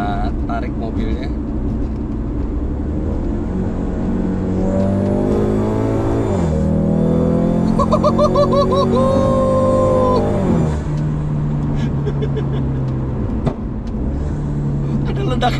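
A modified Ford Mustang pulls away hard from inside the cabin, its engine note rising through the revs in a loud climb, dropping at a gear change, then settling into a steady drone with pops and crackles.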